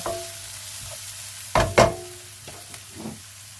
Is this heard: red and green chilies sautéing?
yes